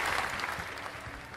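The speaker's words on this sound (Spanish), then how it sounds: "Aplausos." Steady crowd applause during a Spanish-language podcast episode, a continuous dense patter of clapping at moderate level with no talk over it.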